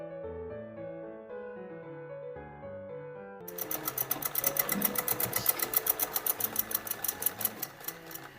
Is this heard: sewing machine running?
yes